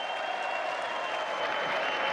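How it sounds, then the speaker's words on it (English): A crowd applauds in a steady, sustained wave during a State of the Union broadcast, the clapping loud and unbroken. "Now let's get another round of applause going."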